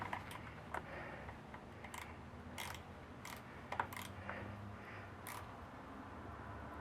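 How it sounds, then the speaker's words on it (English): Ratcheting wrench tightening a nut on a Honda FourTrax ATV starter motor, a faint steady clicking ratchet with occasional sharper metallic ticks, quiet and close. "I got my number 10 ratcheting wrench."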